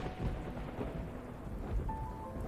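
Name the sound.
thunder roaring in video game Love and Deepspace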